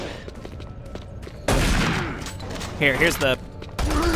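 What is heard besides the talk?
SMG gunfire in video game Doom 3 BFG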